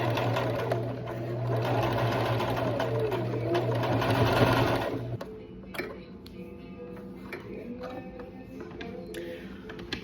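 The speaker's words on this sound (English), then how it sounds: "I'm doing some very messy sewing." A sewing machine runs in steady continuous stitching for about five seconds, loud and close, then stops, leaving quieter handling noises and faint clicks in a small room.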